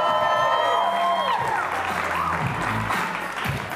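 Studio audience applause for a guest on a drinking talk show, a dense steady clatter of clapping mixed with music tones at the start, then fading slightly with some voices and movement underneath.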